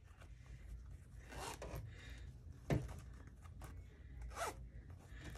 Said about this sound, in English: the zipper wants to not close, so again you just work that down until you get it to close